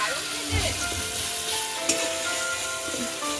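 Chicken fries in a pan with a steady, dense sizzle that stays loud throughout, joined by a few faint stirring scrapes and one brief clink near the middle.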